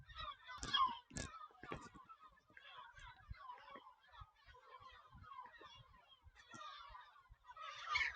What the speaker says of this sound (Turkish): Her yerimizde martılar var.